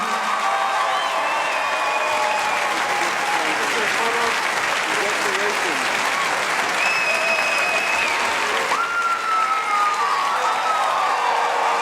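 Sustained applause from a large audience at a Guinness World Record certificate presentation, steady and loud throughout, with a few whistles and cheers rising above the clapping.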